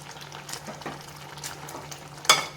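Drumstick leaves are mashed in a pot of cooking soup, giving soft, irregular squelching and stirring strokes under a low simmer, ending with a brief sharp clink of a utensil against the pot.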